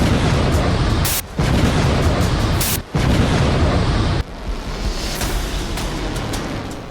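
A cluster bomb blast from the Israel-Iran war makes a loud, sustained, rumbling roar, broken by two abrupt brief cuts, then eases into a lower churning rumble without speech.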